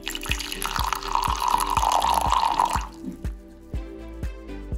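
Beetroot cooking water is poured into a vessel in a kitchen, with a close, continuous splashing pour for about three seconds that stops and leaves a few separate drips.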